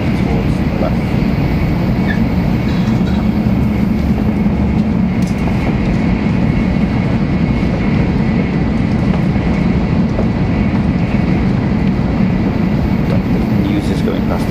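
Steady, loud interior rumble of a Japanese train travelling fast and banking left, continuous rolling noise throughout with people talking over it.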